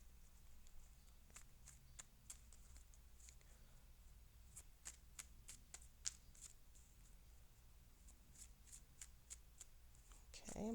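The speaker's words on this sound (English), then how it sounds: "I'm going to shuffle for just a few more seconds." Tarot cards being shuffled by hand, a run of soft, crisp riffling snaps and flutters at close range that continues steadily throughout, with a brief louder handling rustle at the very end.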